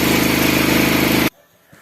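Homemade generator's engine running loud and steady near its limit under heavy load, a dense droning roar that abruptly cuts off, leaving near silence with a faint knock afterward.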